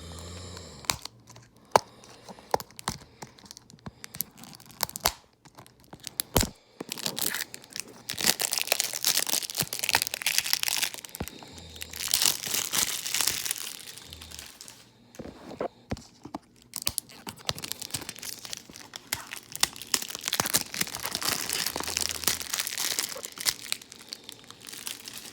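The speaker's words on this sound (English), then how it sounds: "I can't do this one-handed, so I'm gonna have to take the wrapping off" Plastic shrink wrap is peeled and torn from Pokémon Brilliant Diamond and Shining Pearl game boxes, giving bursts of crinkling and crackling with scattered sharp clicks and taps, close and fairly loud over about twenty-five seconds, no speech.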